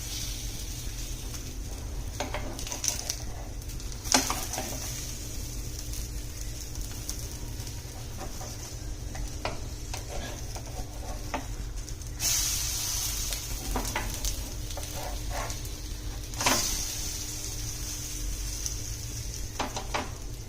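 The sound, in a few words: masala uttapam cooking on a pan over low gas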